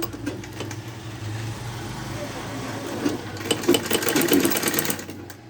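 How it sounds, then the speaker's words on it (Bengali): A sewing machine stitching a blouse runs steadily with a fast mechanical whir, growing louder and more rattling toward the end, heard up close without any talking. "এখন আমি পুট সেলাই করছি দেখো"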